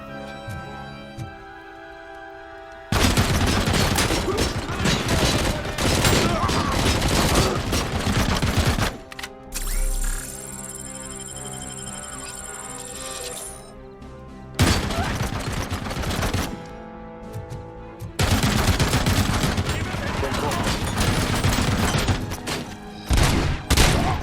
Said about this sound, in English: much I can do with that machine gun